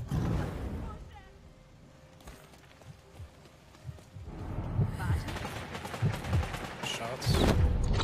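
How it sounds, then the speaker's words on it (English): Gunfire in the video game Bloodhunt crackles in quick bursts and scattered shots, mixed with footsteps and game effects, while players talk over it. "Shots."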